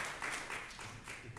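A church congregation at a Sunday Easter service claps for its younger generation, a brief, soft patter of many hands heard from some distance at low volume.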